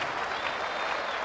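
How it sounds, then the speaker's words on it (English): A cricket stadium crowd at a T20 international between England and South Africa applauds an innings in a dense, continuous roar of clapping with no speech over it. "listen to the applause, and so it should be"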